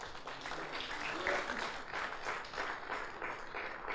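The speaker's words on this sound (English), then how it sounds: "May I have a round of applause" An audience gives a round of applause for the panelists at the close of a conference panel session, a dense, steady clapping that holds evenly throughout.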